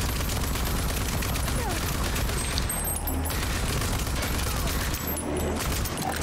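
Gunfire aimed at an armored boss in Rage 2, a dense, unbroken burst of rapid shots and crackling impacts that fills the whole stretch, loud and close, with a voice talking faintly underneath.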